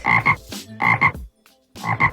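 Frog croaks come in three loud, close paired bursts separated by short silences, with no other sound.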